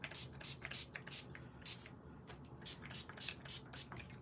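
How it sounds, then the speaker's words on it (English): Quiet, rapid bursts of an aerosol shimmer spray hissing in short repeated pulses onto a paper card, close and faint, with no voices. "then we're gonna spray it with shimmer spray."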